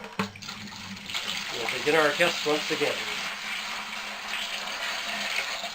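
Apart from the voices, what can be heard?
water being poured into a bucket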